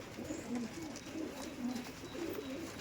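Pigeons in a loft coo softly in repeated low, rolling phrases on a rainy day, faint and somewhat distant against a steady background hiss.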